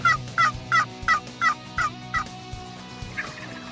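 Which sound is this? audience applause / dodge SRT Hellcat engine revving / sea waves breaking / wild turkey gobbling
wild turkey gobbling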